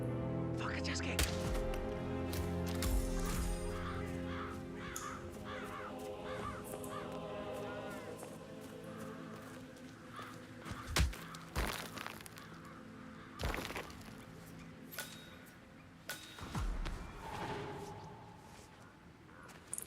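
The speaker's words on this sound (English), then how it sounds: "Damn birds." Crows caw repeatedly near a nest, harsh calls layered with cracking and breaking noises and a few sharp knocks. People talk now and then over the birds.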